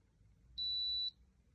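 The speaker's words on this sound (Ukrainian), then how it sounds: "Чекаємо на звукове сповіщення." A single clean electronic ready beep from a Tefal Pure Force 3-in-1 garment steamer, about half a second long, high-pitched and clear against a quiet background hum.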